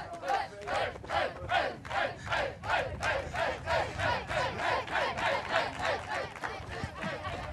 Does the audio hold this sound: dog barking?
no